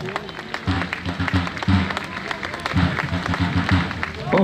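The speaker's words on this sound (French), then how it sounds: "vous pouvez les applaudir également." Spectators clap for Napoleonic reenactment troops at a battle reenactment in Montereau, with steady applause running under an announcer's amplified voice.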